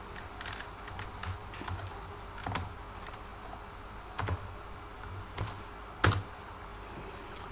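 Keys click on a computer keyboard in light, scattered taps and short runs, with a few heavier single presses, one notably louder near the end, close and quiet over faint room hiss.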